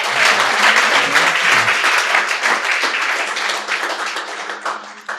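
Audience at a Hindi-Urdu poetry reading bursts into loud, sustained clapping from many hands, a dense, even wash of applause that holds strong throughout and tapers slightly near the end.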